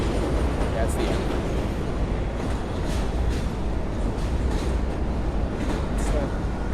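The last cars of a train roll steadily past close by, giving a constant loud rumble with faint rhythmic clatter as a person stands near the tracks by a bridge walkway.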